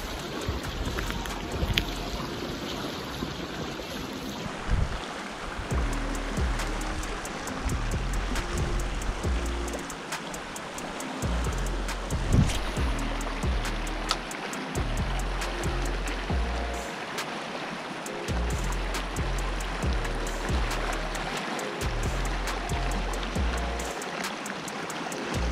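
A remote stream in northern Manitoba runs over small rapids, giving a continuous wash of rushing, burbling water. Softer knocks and handling noises come and go nearby, and no one speaks.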